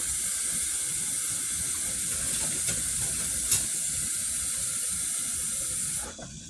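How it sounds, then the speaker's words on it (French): Cold water runs steadily from a tap into a plate in a kitchen, a continuous close hiss and splash that cuts off near the end, with no voices. "Je vais mettre de l'eau froide."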